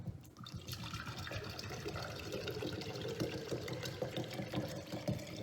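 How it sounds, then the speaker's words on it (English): Water being poured into a small model dam for an irrigation setup, a continuous close trickling, splashing flow heard steadily throughout. "so I'm going to put some water into the dam"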